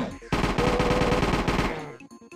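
A rapid burst of automatic gunfire from a gun in the video game Voyager: Charon rattles loudly for about a second and a half, then cuts off abruptly.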